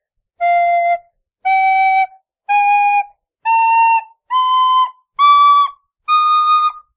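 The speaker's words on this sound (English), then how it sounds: "you're playing just up the scale and you're blowing into the whistle for every individual" Seven separate tin whistle notes, each blown on its own with short gaps between, stepping steadily up the scale, loud and close.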